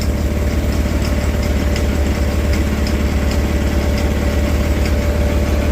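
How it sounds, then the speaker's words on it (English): A Gravely tractor engine with a suspected clogged idle circuit runs steadily close by, a constant rough low rumble with a faint mechanical tick, alone without talk. "It's probably the idle circuit that's kind of clogged, because it seems to do a little better at more throttle."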